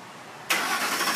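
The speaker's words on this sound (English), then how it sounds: "Remote whistles and the engine cranks." A 2004–2008 Ford F-150 engine cranks and catches via remote start, a sudden close burst of starter and engine noise after a quiet moment.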